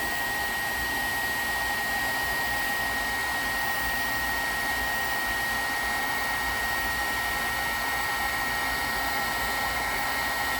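A heat tool blows a steady, loud whir as it melts embossing powder on a card, an unbroken airy hum with no voices over it.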